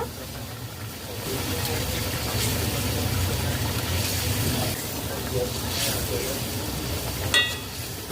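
Curry gravy bubbles and sizzles steadily in a pan for Bengali bati egg curry as eggs go in, a continuous simmering hiss with a few clinks, while someone narrates over it.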